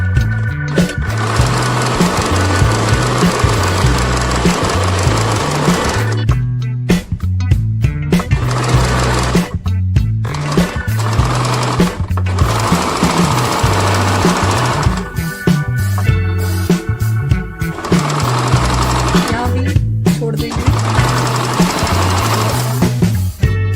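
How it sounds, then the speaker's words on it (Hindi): Sewing machine stitching the seams of bellbottom palazzo pants, a loud close rapid mechanical chatter running in long bursts broken by brief stops, with no voices. "फिर से सिलाई को पक्का करेंगे और एक बार भी कर देंगे।"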